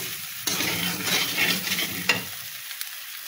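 Potatoes and tempering spices fry in a pan, a loud crackling sizzle swelling with each scraping stir and a couple of sharp utensil knocks, then easing to a softer hiss, with no speech.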